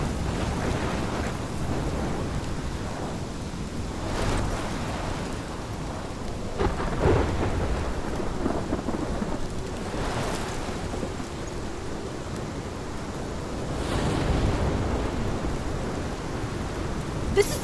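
Rain pours steadily through a thunderstorm in the game Life Is Strange, with low rolling thunder swelling in waves around four, ten and fourteen seconds beneath a constant broadband hiss.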